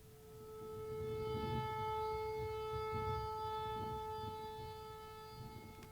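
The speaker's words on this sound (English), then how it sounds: "it's likely just a malfunctioning tornado siren, like this." A malfunctioning tornado siren drones at a single wavering pitch, swelling slightly then fading, with faint low rumbling underneath and no voices.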